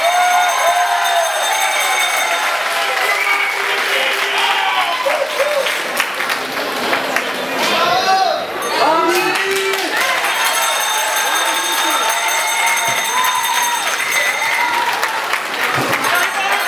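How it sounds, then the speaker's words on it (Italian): A large crowd applauds steadily at an outdoor awards ceremony for the Palio San Giacomo, dense continuous clapping with scattered cheers and voices mixed in throughout. "un applauso, bravissimi!"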